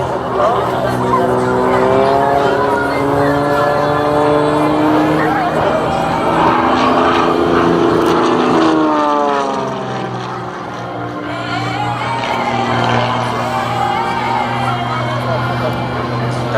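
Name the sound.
propeller aerobatic airplane performing a spin at an air show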